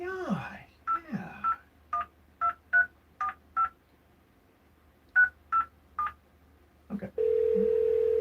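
Touch-tone telephone dialing while placing a call, a sequence of distinct DTMF beeps in two quick bursts separated by a pause, then a steady dial tone, with brief speech at the start.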